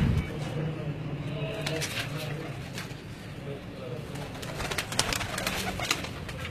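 Pigeons coo softly in a fancier's loft shed, a low steady murmur of several birds close by, with occasional flutters and faint background noise throughout.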